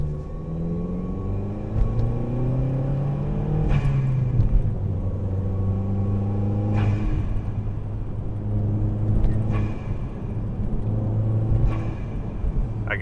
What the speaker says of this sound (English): You'll be able to hear the cold air intake here in just a second.